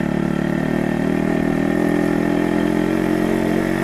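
A motorcycle engine runs steadily at a low, even throttle during a test ride, its loud continuous drone close by with no pauses or voices.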